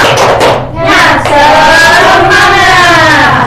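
Elementary class clapping in rhythm and shouting a short group cheer together, loud and close in a classroom, with bursts of claps and voices filling the room.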